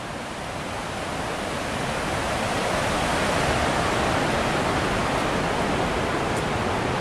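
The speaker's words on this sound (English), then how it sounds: "Hopefully we can get our first glimpse of the falls." Niagara Falls roars as a huge waterfall, a loud, unbroken wall of rushing white noise that swells slightly and then stays constant, with no voices over it.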